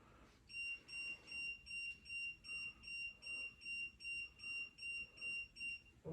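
An electronic ghost-hunting device gives a rapid run of a dozen or so evenly spaced, shrill beeps, clear but fairly quiet, with no voices over them.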